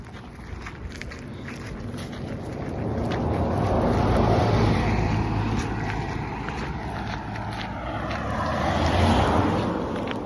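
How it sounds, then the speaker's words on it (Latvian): A car drives past outdoors with a broad, swelling road rumble that builds toward the middle, eases, then rises again near the end, mixed with wind buffeting and nearby shuffling and no speech. "tur vēl viena mašīna brauc"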